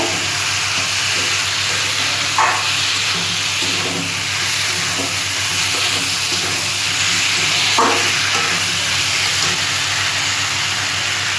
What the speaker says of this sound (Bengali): এবার আমি এই আলু পটলটাকে ওই মশলা দিয়ে কষিয়ে নেব